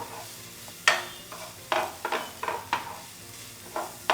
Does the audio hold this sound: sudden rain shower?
no